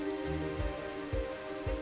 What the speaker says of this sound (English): now I might as well just catch the rain on my canvas